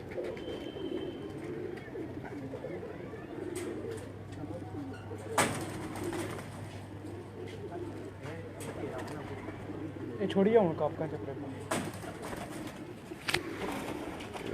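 Soft cooing of a golden pigeon on a rooftop in Rawalpindi, in the background beneath close conversation between men, with some handling noise and a brief louder rustle.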